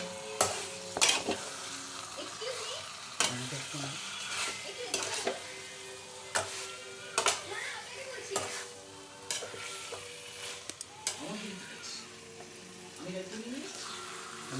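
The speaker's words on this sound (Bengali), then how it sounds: "চিকেনটাকে খুব সুন্দর করে কষতে হবে।" Chicken is stir-fried in a pan, sizzling under repeated scrapes and knocks of a spatula against the metal, with faint speech in between.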